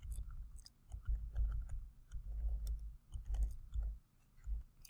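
Quick soft clicks and taps of typing on a computer keyboard with occasional mouse clicks, faint and close, in a quiet room with no talking.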